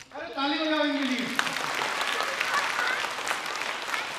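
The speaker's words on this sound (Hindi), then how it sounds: "अरे ताली बजाओ इनके लिए" An audience at a safety awareness event applauds, a dense, steady burst of clapping that starts abruptly and carries on evenly, with a voice briefly audible at the start.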